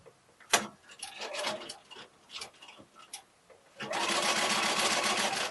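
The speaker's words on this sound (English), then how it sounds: "you're now going to put that back under the machine and stitch over that little piece, putting a few securing stitches in either side" Domestic sewing machine stitching a small fabric heart tree decoration, with a few scattered clicks and short bursts before a steady, close, loud whirring run of stitches takes over for the final stretch.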